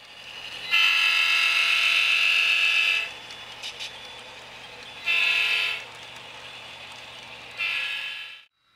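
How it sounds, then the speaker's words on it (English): A northbound freight train rolls through Louisville, its loud, steady roar broken by three long blasts of the horn, with a quieter stretch between them. "Here's an iPhone 7 tracking the speed of a northbound freight through Louisville."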